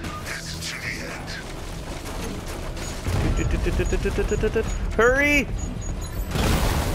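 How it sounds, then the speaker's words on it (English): An explosion in Batman: Arkham Knight erupts amid gunfire and a mechanical rumble, with a loud booming burst and sweeping whine near the end. A voice shouts briefly over the busy combat noise. "The explosion disabled the main cannon."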